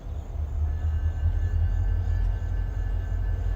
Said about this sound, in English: This is a outbound train headed north on the CNOTP.